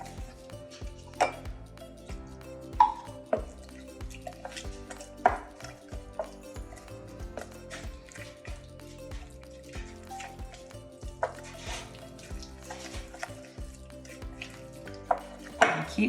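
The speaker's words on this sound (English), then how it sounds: "just kind of cut it and chop it as you stir to make sure it gets all the way mixed in" A spatula stirs and chops through sticky unleavened bread dough in a mixing bowl, giving repeated irregular knocks, scrapes and soft thuds against the bowl, close and fairly loud, with no talking.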